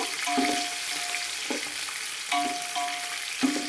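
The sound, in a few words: onions frying in a pan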